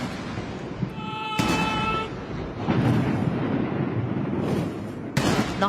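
Ceremonial cannon salute on Tiananmen Square: loud booming blasts with broadband bursts, one near 1.4 s and another near 5.2 s, over a rumbling crowd-like background. Some tonal horn-like sounds are mixed in.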